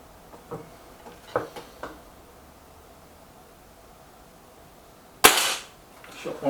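A single shot from a Kral Puncher Breaker bullpup air rifle fired outdoors at a target, one sharp loud crack near the end, preceded by faint clicks and handling noises.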